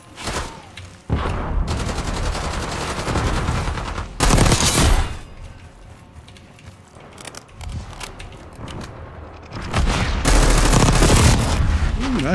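Rapid video-game gunfire in several loud bursts, with heavy volleys around the fourth and tenth seconds, mixed with quieter stretches of game noise and faint background talk.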